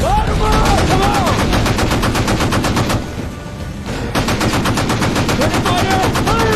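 Rapid gunfire from warship guns in a naval battle during a wartime Atlantic convoy, a loud continuous machine-gun-like barrage with a brief lull before the firing resumes, with faint shouting underneath.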